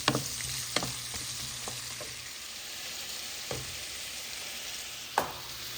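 Finely chopped potatoes for aloo bhaji frying in a pan, a steady soft sizzle with a few sharp clicks and scrapes of stirring scattered through, fairly quiet and close.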